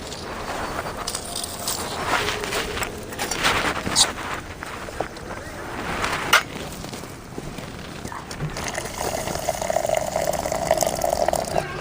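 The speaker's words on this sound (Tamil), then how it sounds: "இறக்கி தண்ணியை வடிச்சிக்கணும்" Water drained off cooked sour greens (gongura) pours and splashes steadily, a continuous rushing sound with some clinks of a pot.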